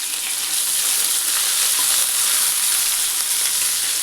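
Curry leaves and onion with dried chillies sizzling in hot oil for idli sambar, a steady close hiss and crackle throughout with no talk.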